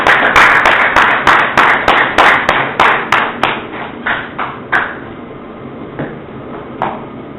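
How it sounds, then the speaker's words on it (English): A small group claps for Sister Captain at a religious gathering, starting as brisk, loud, distinct claps in a rough rhythm, then slowing into sparse, scattered claps that trail off. "Get up here with a round of applause."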